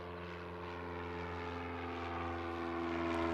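Steady drone of a Cessna 172 propeller aircraft at Gloucestershire Airport, a continuous tonal engine hum with strong harmonics that grows slightly louder as it runs, with no talk over it.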